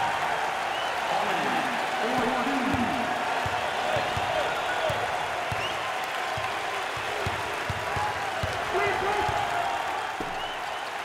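A college basketball student section at the 2024 Big Ten Tournament semifinal, Ohio State versus Nebraska, roars and claps in a steady arena din, with a commentator talking over it and faint ball bounces underneath.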